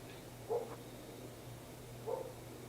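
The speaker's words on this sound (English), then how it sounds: "My dog's barking at something." A pet dog barks twice, faint and somewhat distant, about a second and a half apart over a steady low indoor hum.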